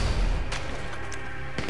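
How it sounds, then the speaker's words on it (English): Fireworks explode in the video game GTA V Online as a couple of sharp booming bursts over a dense, noisy in-game background. "Fireworks!"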